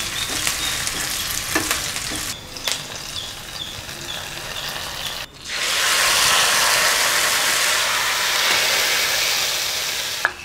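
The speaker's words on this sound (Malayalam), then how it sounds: "ദേ ഇപ്പോൾ കടുക് തളിച്ചു" Mustard seeds splutter in hot oil for a tempering, with scattered pops and clicks at first, then a sudden loud surge of dense sizzling that holds steady until the end.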